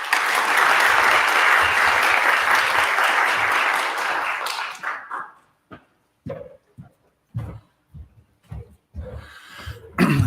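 Audience applause at a 2022 national C. diff advocates summit, a loud sustained clatter of clapping for about five seconds that then breaks off into scattered coughs, throat clearing and brief murmurs in the hall.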